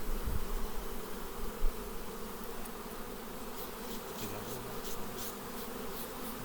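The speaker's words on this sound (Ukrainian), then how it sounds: "тут маса бджіл" A swarm of honeybees at an apiary, close to the hive entrance, produces a dense, continuous buzzing hum, with individual bees flying past and their tones rising and falling.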